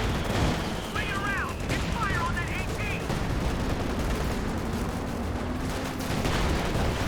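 Tank shots and gunfire sound from a Company of Heroes 2 battle, with dense, continuous weapon fire and explosions layered under a steady roar throughout.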